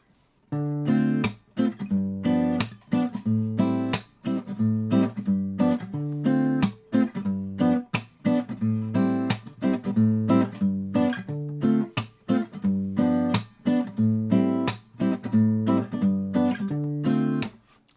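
A guitar plucked in a steady repeating fingerpicked pattern, clean and close, notes ringing in a regular rhythmic groove with no voices.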